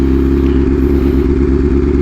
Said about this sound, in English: See, my bike's already jerking, doesn't like that.